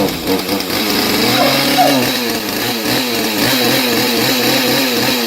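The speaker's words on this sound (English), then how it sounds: "2-stroke engines have a more high-pitched, annoying sound. We're going to fire them up." A small two-stroke engine runs steadily and loudly with a buzzy, high-pitched drone and slight revving fluctuations throughout.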